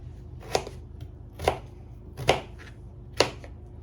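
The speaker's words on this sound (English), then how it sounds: "you just stack them together and cut them" Four sharp knife chops through a stack of thick potatoes on a cutting board, evenly spaced about a second apart, close and crisp with quiet room noise in between.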